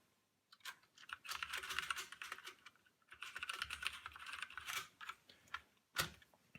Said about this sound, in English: So let me just try typing a sentence here.